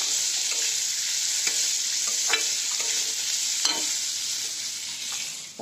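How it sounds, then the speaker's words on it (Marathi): Chopped onion frying in a pan, a steady close sizzle broken by several soft scraping strokes of a spoon stirring it, with no voices. "कांदा चांगला भाजू द्यायचा।"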